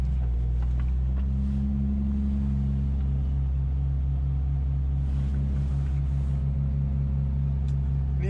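Steady low engine rumble from a car idling up close, a continuous drone with faint mechanical noise above it and no talk.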